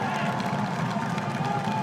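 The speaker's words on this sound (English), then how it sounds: "rightly getting some applause as there's a bit of a change of guard" Crowd at a New Zealand secondary schools boys' rugby final clapping and cheering in a steady, dense wash, fairly loud and continuous across the whole moment.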